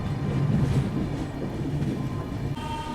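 Duronto Express train rolling slowly through Shikohabad Junction, a steady low rumble of wheels and carriages with faint rail clatter, continuous and close, no talking.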